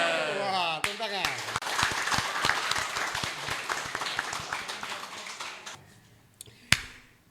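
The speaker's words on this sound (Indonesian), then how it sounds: "wah, tepuk tangan" Audience at a Cilegon school event claps and cheers in a lively, dense burst of applause lasting several seconds, with voices mixed in, then fading out before a final sharp clap.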